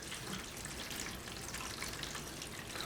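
Water poured into a plastic seedling tray for bottom watering, a steady, soft, hissing splash that continues without a break, fairly faint and with no voices.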